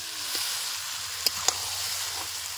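Chicken being sautéed in oil in a pan for a Bengali chicken kosha, a soft steady sizzle with a couple of sharp utensil taps against the pan, close and quiet.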